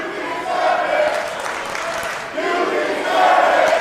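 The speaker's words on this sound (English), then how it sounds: "It sounds like a split 50-50 crowd." A House of Glory wrestling event crowd roars in a sustained, loud mixture of cheers and jeers, swelling and dipping, with shouting voices throughout.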